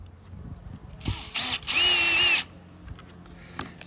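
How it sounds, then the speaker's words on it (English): Power drill boring holes in a car part for an AMG track car cockpit ventilation job: a brief trigger burst, a short whir, then a longer steady drilling run of about half a second, close and loud. "let's get this drilled out, lined up and drilled out."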